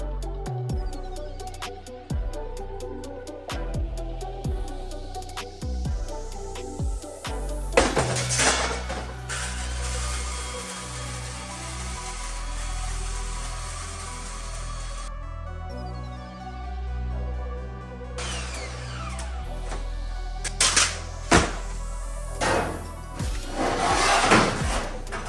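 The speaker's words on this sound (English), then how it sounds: "I basically cut all the sheet metal out tonight so I can weld it" Sheet metal being cut off a Mustang rat rod, a long stretch of grinding and whining tool noise punctuated by sharp clanks and metallic bangs, steady and close.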